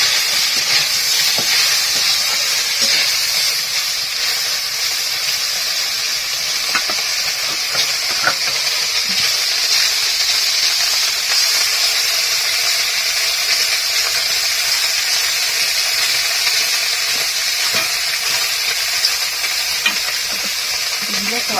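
Fish frying in hot oil in a pan, a dense, continuous crackling sizzle that holds steady and fairly loud throughout, with occasional sharper pops.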